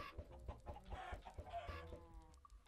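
Chickens in the Minecraft video game clucking repeatedly in a busy, overlapping cluster of short calls, fairly close and loud, with no talk over them.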